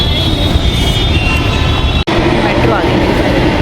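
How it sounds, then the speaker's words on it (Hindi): A metro train rolls into a station, its loud broadband rumble filling the space with a brief sharp break midway and steady train noise after. "मेट्रो आ गई मेरी।"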